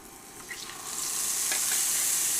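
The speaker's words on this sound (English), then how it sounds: "There's the sizzle." Fish laid into hot oil in an iron skillet on an induction burner, a short clatter and then a loud, steady hissing sizzle that builds and holds, with no talking.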